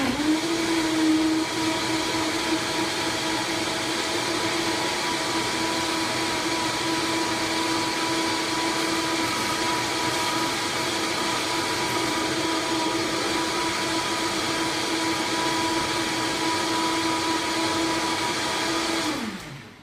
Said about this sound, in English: This is all of the vegetables blended up.